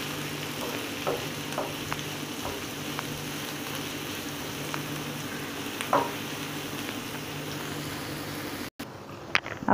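Onion frying on a tawa for egg tawa masala, a steady moderate sizzle with occasional spatula scrapes and taps, close by, with a brief cut near the end followed by a couple of louder knocks; nobody speaks.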